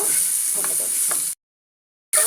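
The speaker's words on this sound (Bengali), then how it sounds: "মশলাটা ভালো করে ভাজা ভাজা করে নেব" Spices sizzle and crackle in a hot pan with soft stirring scrapes, then the sound cuts out abruptly for a moment before the sizzling resumes.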